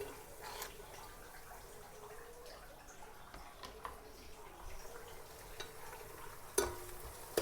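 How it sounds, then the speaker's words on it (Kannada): Fenugreek leaves frying in a pan with light stirring, a faint steady sizzle under scattered soft scrapes and taps, and one sharper clink near the end. "ಮೆಂತ್ಯ ಸೊಪ್ಪಾಗಿ ಚೆನ್ನಾಗಿ ಫ್ರೈ ಮಾಡ್ಕೊಳ್ಳೋಣ."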